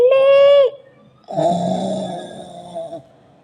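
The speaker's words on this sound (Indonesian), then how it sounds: "Gimana sih bapaknya malah ngorok lagi." A man asleep snores loudly in two long, drawn-out breaths, a tonal, whistling snore followed after a pause by a rougher, rattling one, close and with nothing else audible.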